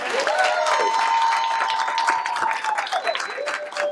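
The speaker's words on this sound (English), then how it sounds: "Let's give them a round of applause." Steady crowd applause greets the Hall of Legends inductees at Finley Stadium, with dense clapping that fades slightly and a voice speaking over the clapping.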